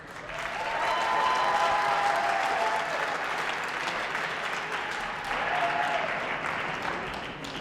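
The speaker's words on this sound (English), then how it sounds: "another round of applause for your boxers" Sustained applause from a crowd for boxers after a cadet boxing bout, rising quickly and holding as a dense wash of clapping for several seconds before easing slightly.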